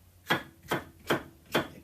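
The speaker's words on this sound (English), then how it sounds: "I'm going to roughly chop my chilli" A knife roughly chops chilli on a board in four evenly spaced, crisp thuds, close and distinct against a quiet kitchen background.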